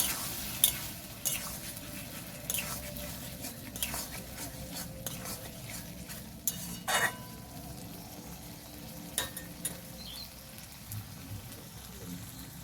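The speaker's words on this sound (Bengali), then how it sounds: "এখন আমি অল্প দিয়ে দেবো জল, জলটাকে দিয়ে আরও কিছুক্ষণ কষিয়ে নেব।" A potato and spice mix is sautéed in a pan with a little water, giving a soft steady sizzle under repeated scraping strokes and spatula taps at irregular intervals, heard up close.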